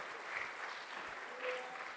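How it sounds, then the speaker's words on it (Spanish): A church congregation claps during worship, a faint, steady patter of many hands heard at a distance for about two seconds with no voices on top. "Dele fuerte las palmas al bendito Señor."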